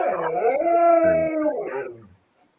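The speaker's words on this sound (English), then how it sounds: "Dogs want your attention." A dog howls for attention in a single long, wavering, mournful note that rises and falls, then trails off into whimpering, close and alone.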